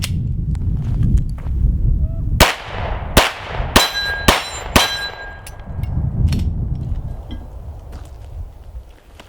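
Five sharp, loud firearm shots ring out during a test-fire session meant to push the gun until it fails, spaced roughly half a second to a second apart over steady low rumbling background noise with faint metallic ringing.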